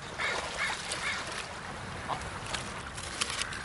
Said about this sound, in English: Just feeding the ducks.